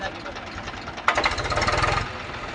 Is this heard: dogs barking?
no